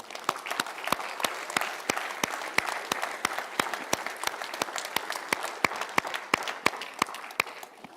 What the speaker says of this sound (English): Please join me in a round of applause for all the women here today in this room.